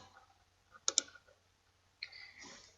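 Two quick sharp mouse clicks close to the microphone, followed by a fainter click and a brief soft rustle on a quiet computer desk.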